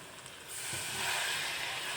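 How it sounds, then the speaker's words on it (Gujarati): Water splashes into hot tempered spices for Mumbai-style ragda, and a steady, loud sizzle and steam hiss swells up after the first half second and carries on to the end, with no talking. "આપણા મસાલા ન બરે એના માટે હું બે ચમચી માટે હું પાણી નાખું છું"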